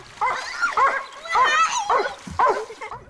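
A real dog barks and yips several times in quick, excited bursts, close and fairly loud, with whimpering tones between the barks.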